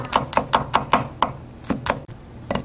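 Knife chopping two garlic cloves finely on a cutting board: about six brisk, evenly spaced chops, a pause, then a few more sharp close taps, all clear and without talk.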